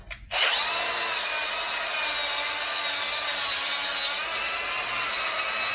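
A power tool cleans rust off the axle of a 2011-14 GMC 2500HD truck, starting abruptly and then running as a steady, loud, high-pitched grinding whir for several seconds without a break.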